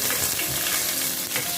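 Fennel seeds and finely chopped curry leaves sizzling in hot oil in a pan, a continuous close, loud crackling hiss with small spitting pops and no talk.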